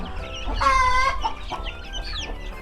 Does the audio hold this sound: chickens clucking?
yes